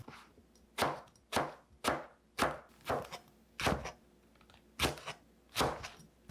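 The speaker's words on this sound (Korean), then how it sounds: "먼저 가지 두 개를 깍둑 썰어 줍니다" Two eggplants are diced with a knife on a board, giving about nine sharp, distinct chops at an uneven but steady pace, close and clear against a quiet background.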